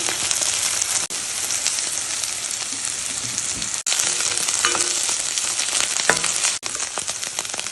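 Okra poriyal with urad dal, cumin, three chillies, salt and turmeric sizzling steadily in a hot pan, a loud, dense crackle that runs on with a few brief breaks.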